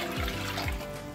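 Hot water poured for making strawberry jelly in a home kitchen, a steady close splashing stream filling a container with a couple of gurgling dips, no talk.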